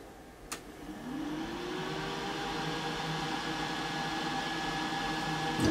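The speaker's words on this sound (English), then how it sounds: "So basically, if we're in float, the fan comes on." A battery venting fan in a solar power setup switching on after a click, spinning up to a steady, quiet whirring hum that holds on alone.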